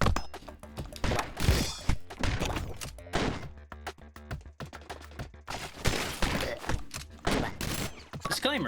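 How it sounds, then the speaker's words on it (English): A machine gun in the game Stick it to the Stickman rattles out in repeated bursts and sharp thuds, separated by brief gaps, loud and close throughout. "I have a machine gun."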